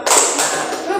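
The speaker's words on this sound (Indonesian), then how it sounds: "Tepuk satu, tepuk dua, tepuk tiga, tepuk satu, dua" A group of students at a campus orientation leadership session claps on command, a burst of sharp hand claps and thumps forming a short, loud patter in a hall with some voices mixed in.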